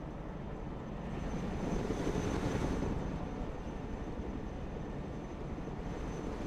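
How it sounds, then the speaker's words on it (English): Helicopters flying in Broken Arrow, a continuous heavy engine and rotor roar that swells toward the middle and then holds steady, loud and close, with no speech. "Helicopters are impressive machines. Boy, are they noisy."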